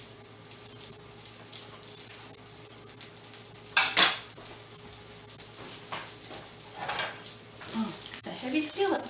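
Mini slider burgers cook in a heavy skillet with a soft, steady sizzle, broken by a sharp clatter of metal utensils against the pan near the middle and occasional scraping.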